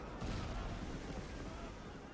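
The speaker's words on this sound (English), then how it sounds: "trying not to have them get sniped from an artillery piece like we just did" A loud, rumbling artillery shell strike in a WWII Iwo Jima battle game, with dense booming blasts and continuous roar filling the short clip, no clear voices.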